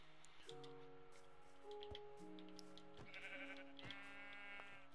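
Sheep bleating in the Minecraft video game, several short bleats amid layered game sounds and tones, moderately loud with no talk.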